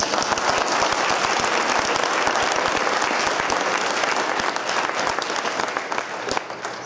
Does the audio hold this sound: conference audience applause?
yes